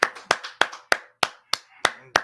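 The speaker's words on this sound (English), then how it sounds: "Clap it up" Eight crisp, evenly spaced claps ring out close by, a small group of people clapping together in a brisk rhythm with short silent gaps between them.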